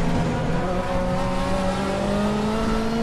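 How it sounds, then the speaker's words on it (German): A Nissan Silvia Turbo Group 5 race car with a roughly 570 hp four-cylinder turbo engine, driven in RaceRoom at Zolder, drones loud and close, its engine note climbing steadily as it pulls through a gear. "hier einen Vierzylinder Turbomotor haben mit 570 PS oder so, also richtig was Gewaltiges"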